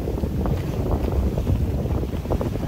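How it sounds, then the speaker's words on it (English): A sailboat heeled over in a brisk breeze, surfing down waves, with steady wind buffeting and rushing water washing along the hull, continuous and fairly loud with no talking. "Surfing the waves."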